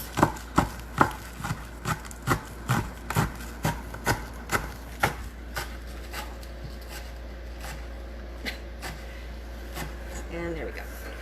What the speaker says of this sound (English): So I'm just going to chop up a little green onion to add to the top of mine, Kylie, and Kyler's taco salad as well.